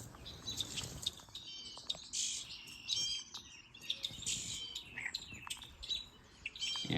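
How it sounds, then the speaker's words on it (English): Blue jays call from a TV screen, a string of sharp, bright chirps and calls repeating through the whole stretch at moderate loudness, with some fluttering and light patter underneath. "it's Blue Jays."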